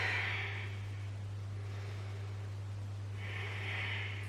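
Two slow, deep breaths taken during a leg stretch in a low-impact HIIT workout, drawn close and soft at the start and end, with a steady low hum and quiet room hiss between them and no talking.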